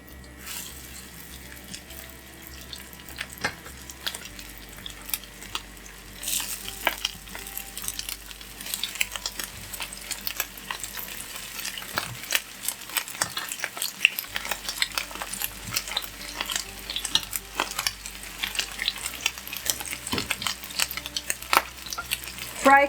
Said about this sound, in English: Fry cutlets about 3 minutes on one side, flip, and additional 4 minutes on lower heat.